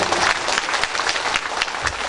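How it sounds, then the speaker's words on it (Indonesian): A crowd claps steadily, a dense burst of applause filling the room for a couple of seconds with no talking, at an Islamic religious lecture gathering. "Tepuk tangan dong buat Madinatul Ilmi Bapak Ibu"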